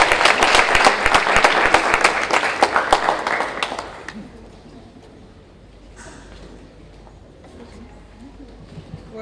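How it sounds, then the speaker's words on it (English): Loud audience applause for a minister at an International Women's Day 2020 foundation event, dense clapping for about four seconds before fading to quiet room noise. "we put our hands together with a resounding applause, ladies and gentlemen, for Minister Maite Nkwane Mashabane."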